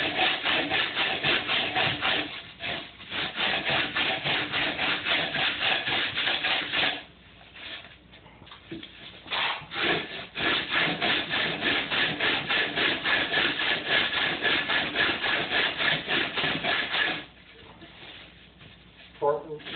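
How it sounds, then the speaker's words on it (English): A hand rasp carves a foam cylinder in long runs of rapid, rhythmic scraping strokes, close and loud, broken by short pauses while a voice speaks at times. "Just keep your rasp going and keep your foam piece moving."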